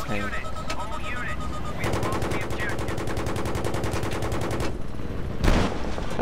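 Rapid automatic gunfire in a Battlefield 3 match on Kharg Island rattles in fast, dense bursts against a loud battle din, with a brief heavy blast near the end.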